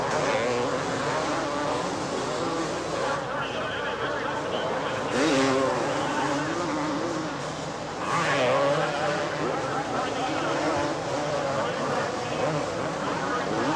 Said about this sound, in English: Over the giant jump, Brecker and Johnson holding the throttles wide open.